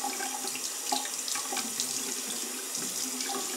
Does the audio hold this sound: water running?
yes